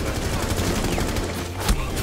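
Gunfire in the video game Rainbow Six: rapid, dense bursts of shots fill the whole stretch, loud and continuous, with one sharper crack near the end and voices calling out underneath.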